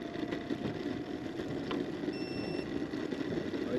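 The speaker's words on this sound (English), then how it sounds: "The noise does seem to be coming from the front plastic fender." An electric scooter rolls along with a steady rattling buzz from its loose front plastic fender, a continuous mid-level vibrating drone under the riding noise.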